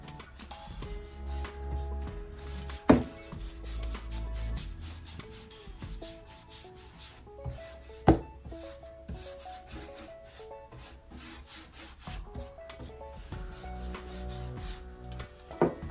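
A soft, steady rubbing and scrubbing of DIY wax and dust being worked onto a wooden surface, with a few sharp knocks along the way. Faint tonal music plays quietly underneath.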